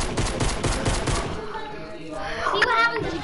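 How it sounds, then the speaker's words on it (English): Rapid pistol fire in the Fortnite video game, a fast rhythmic string of sharp shots that stops partway through, followed by game sounds and quieter background noise. "I'm gonna be using a pistol."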